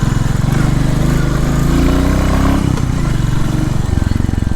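A small motorcycle rides over rough hillside terrain, its engine droning loud and close with a steady buzzing rumble that dips briefly and then bounces back.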